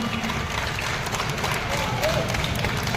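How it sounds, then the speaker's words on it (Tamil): Dense, steady crowd applause at an arts festival in Ranipet district, many hands clapping at once, loud and continuous throughout, with some voices mixed in. "நீங்க எல்லாரும் பாராட்டி ஒரு கரகோஷம் சத்தமா சத்தமா"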